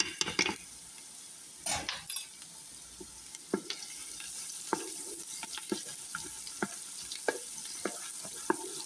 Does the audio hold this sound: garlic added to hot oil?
yes